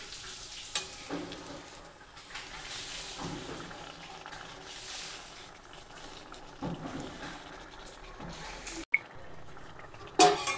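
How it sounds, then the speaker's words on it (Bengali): Malpua batter frying in hot oil, a steady close sizzle and bubbling crackle running throughout with a few sharp utensil clinks near the start and end. "উল্টিয়ে পাল্টিয়ে ভেজে নিলাম, এবার এটাকে আমি তুলে নেব।"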